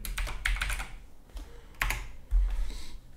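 Keys on a computer keyboard clatter in short irregular bursts, close and fairly quiet, during a computer class lesson, with a couple of louder taps.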